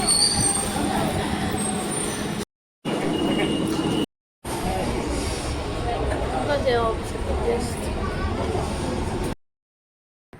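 A metro train slows into a station with a steady rumble and rising wheel squeal as it brakes, heard from on board under people talking, with a few brief silent cuts.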